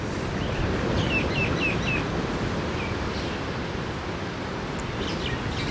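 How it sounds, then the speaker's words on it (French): Several birds chirp and sing in short repeated phrases over a steady, loud background rush like surf or wind, with no one talking. "Il y a plein d'oiseaux qui chantent"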